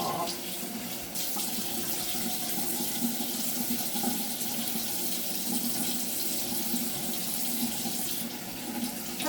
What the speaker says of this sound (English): Clean and rinse things back off.